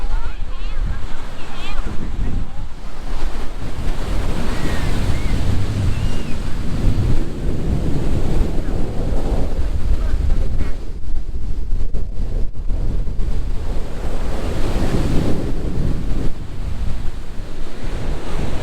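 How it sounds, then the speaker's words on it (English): Ocean surf crashes continuously onto the beach at Nha Trang, Vietnam, with loud rolling breakers, wind buffeting the microphone, and a voice speaking over it at moments. "check out these waves"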